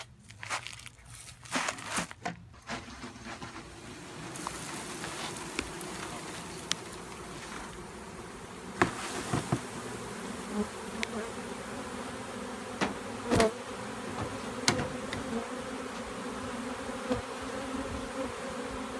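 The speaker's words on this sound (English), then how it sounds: "That was a lot of bees." Continuous buzzing of a swarm of honey bees, a steady drone with occasional louder passes close by and some crinkling handling noise at the start.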